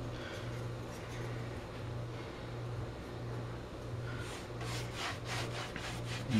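Steady rhythmic rubbing of a cloth working chalky finishing powder and clear wax into a wooden surface, close and continuous strokes with a soft back-and-forth swish.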